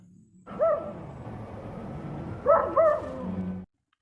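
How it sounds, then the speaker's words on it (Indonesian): A dog in a film scene at night gives two short bursts of yelping barks about two seconds apart, fairly faint, over a quiet background. "harus tetap terjaga karena anjing si Vicente terus menggonggong"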